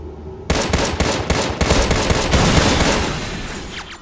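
Rapid automatic gunfire from the shooter game Contra: Rogue Corps, a dense, loud stream of overlapping shots with sharp bursts, starting abruptly after a half-second of quiet and running steadily to the end.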